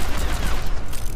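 McCree's pistol fires in the Overwatch video game: a loud, close cluster of shots packed tightly together over about a second, with dense crackling noise throughout.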